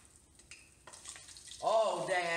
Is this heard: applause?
no